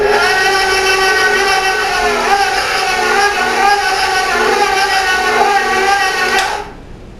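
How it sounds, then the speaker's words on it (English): A stand mixer kneads pizza dough with a loud, steady motor whine that wavers slightly as the load shifts, then cuts off abruptly near the end, leaving quiet room tone. "Now I'm going to turn the mixer back on."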